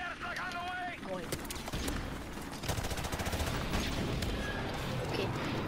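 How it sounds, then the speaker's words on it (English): A friendly airstrike in a video game, with dense bursts of gunfire and heavy explosive booms rumbling continuously through the scene, loud and close, while voices talk over it early on. "Friendly airstrike on the way."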